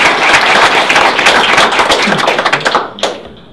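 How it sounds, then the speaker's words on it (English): At a community group launch, an audience claps in a dense, loud burst of many hands that thins into scattered individual claps and dies away near the end. "So if you guys all agree, I think you should clap"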